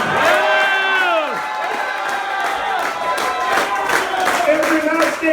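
Wedding guests clap and cheer at a reception, a lively crowd of whoops, excited shouts and scattered applause, with voices rising over the clapping near and loud.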